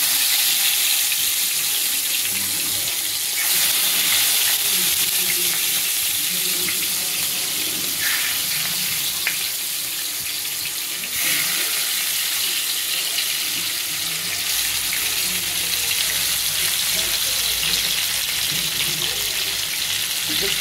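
Hilsa fish pieces dropped into hot oil for a mustard-poppy seed curry, producing a steady, loud, broadband sizzle that holds throughout with small surges as pieces go in; no talking.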